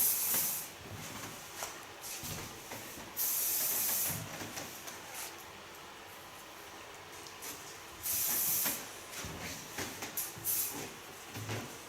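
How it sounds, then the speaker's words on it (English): Bursts of Caribbean aerosol hair spray hissing in short blasts onto a client's hair at a salon after a cut and colour, several sprays spaced apart with quieter handling noise between. "And to protect the hair a little bit more, I use a Caribbean spray."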